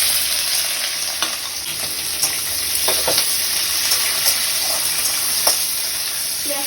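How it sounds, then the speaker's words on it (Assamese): Chopped onions dropped into hot oil with ginger-garlic paste, a loud continuous sizzle and frying hiss with occasional scraping stirs, close up. "এতিয়া মই ইয়াতে কাটি থৈ দিয়া পিয়াজখিনি দি দিম।"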